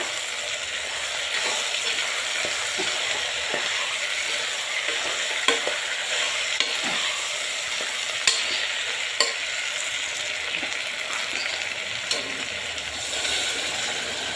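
Kathiawadi-style chickpea curry crackles in a pan while crushed coriander, turmeric and salt are stirred in, a steady close sizzle broken by scattered scraping clicks from the spoon.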